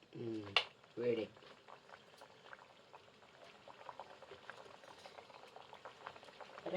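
Biscuits dropped into hot oil to fry until golden, a quiet bubbling sizzle that rises and settles steadily, with a voice talking briefly at the start.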